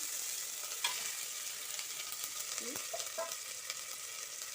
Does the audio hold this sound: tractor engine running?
no